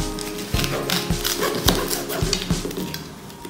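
A whole bell pepper is cut for Ecuadorian fish stew, with several sharp knife strikes on a cutting board spaced at a steady pace, close and clear among kitchen clatter.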